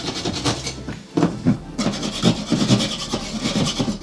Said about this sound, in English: We just take our knife and we just give it a little bit more.